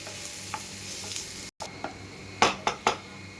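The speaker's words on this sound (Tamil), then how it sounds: "இப்போ இந்த பாவக்காவை போட்டுட்டு நல்லா வணக்குங்க" Bitter gourd tossed in a hot pan with salt gives a steady soft sizzle, broken by a few sharp spatula scrapes and clinks against the pan near the end, with no talking.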